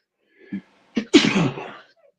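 A single sharp sneeze, close and loud, preceded by a brief small intake and trailing off into quiet.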